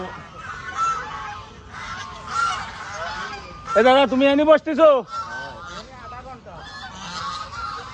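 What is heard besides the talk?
geese honking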